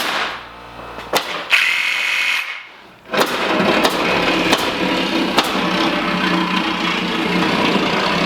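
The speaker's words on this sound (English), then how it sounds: "we're gonna go around and drill in all four corners of the windows" A power drill whirs in short bursts, then runs steadily at high speed for several seconds, loud and close, drilling the corners of window openings in a hunting blind.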